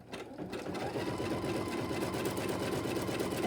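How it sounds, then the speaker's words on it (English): Embroidery machine stitching around a design on a quilted table topper block, a fast steady mechanical chatter starting after a brief pause and running continuously, close and alone. "it is stitching around that design"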